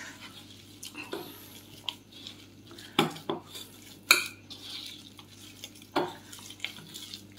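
Batter for bok flower fritters with black cumin being mixed in a bowl, with scattered clinks and scrapes of a utensil against the dish and soft wet stirring, fairly quiet with gaps between strokes.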